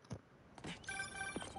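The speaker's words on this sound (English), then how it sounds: "That was my friend Angela on the phone." A phone rings in Marvel's Spider-Man 2 video game, a faint electronic ringtone with a warbling tonal pattern amid soft in-game ambience and brief rustling sounds.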